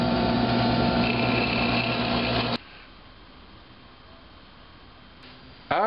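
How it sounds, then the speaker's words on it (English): A drill bores a hole in a wooden camera tripod leg. A loud, steady high-pitched whine runs close for about two and a half seconds, then stops abruptly, leaving quiet room noise before a brief restart at the end. "After you've drilled the holes in the dummy leg"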